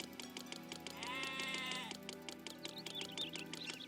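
Sheep bleating in the city-building game Zeus: Master of Olympus, a steady run of bleats over looping game music, with one long, loud bleat in the middle and shorter calls around it.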